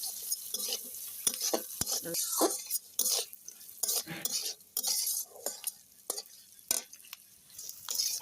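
Crab frying with onion, garlic and green chili in a pan, a steady sizzle broken by repeated scraping and clinking stirs of a utensil against the pan, close and moderately loud.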